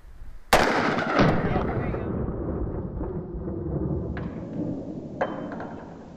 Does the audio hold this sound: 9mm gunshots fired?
yes